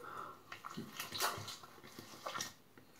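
Water splashes and swishes as a cheap disposable supermarket-brand razor is rinsed off after shaving, with short bursts of running water and sloshing in close succession.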